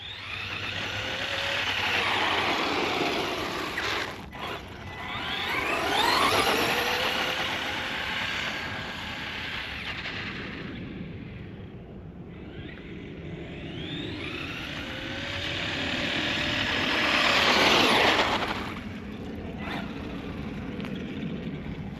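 A Maverick Quantum 2 RC truck running on 3S power drives and spins out, its motor whining loudly and close in two long rising and falling surges with wheel noise, no talk.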